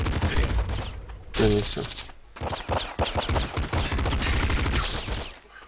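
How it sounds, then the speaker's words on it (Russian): Uzi machine gun in the Nuclear Throne game firing in rapid bursts, loud and close, interrupted by short gaps, with someone speaking briefly over it. "Мне нравится этот пулемет. УЗИшка"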